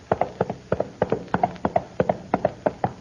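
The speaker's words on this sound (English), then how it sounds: "I see Don Diego's horse approaching." Horse hooves clip-clop in a steady, even rhythm as a radio drama sound effect of a horse approaching, crisp and fairly close, with no talk over them.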